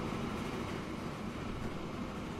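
A train running in the Transport Fever 2 simulation game gives a steady, low, even rumble that holds at one level throughout, with no talking.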